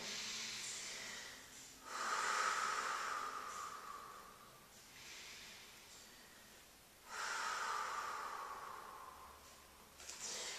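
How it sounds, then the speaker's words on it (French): Slow, deep breaths during a Pilates exercise, with two long airy inhale-exhale cycles heard close and quiet, spaced several seconds apart, and no talking. "2 grandes respirations."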